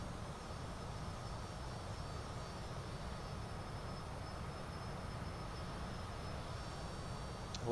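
Steady cabin drone of a Cessna CJ4 business jet in Microsoft Flight Simulator 2020, banking through a right turn among clouds; an even, continuous low roar with no talk over it.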